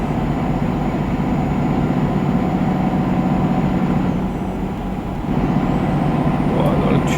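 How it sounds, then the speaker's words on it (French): DAF truck engine in Euro Truck Simulator 2 driving through a tunnel: a steady, loud low drone with a continuous hum and no pauses, and a brief faint hiss near the end. "Pauvre moteur là qui se fait un pauvre bruit."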